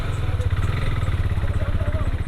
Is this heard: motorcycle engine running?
yes